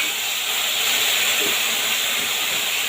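Water poured into a hot pan of hilsa fish curry with cumin, turmeric, green chilli and salt hisses and sizzles as a loud, steady, close rush of steam throughout.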